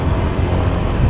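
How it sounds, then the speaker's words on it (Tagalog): Strong wind buffeting an outdoor microphone on a street in the Commonwealth area, a steady loud low rumble with gusty swells lasting throughout, no voices. "malakas po yung hangin"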